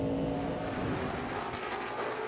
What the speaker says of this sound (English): Those two, the fastest cars on the racetrack right now